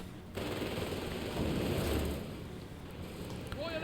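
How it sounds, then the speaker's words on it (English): Rapid gunfire in Company of Heroes 3 during a tank battle, a dense continuous rattle of machine-gun fire under a muffled battle din, moderately loud, no one speaking. "You can see that they're currently shooting them here."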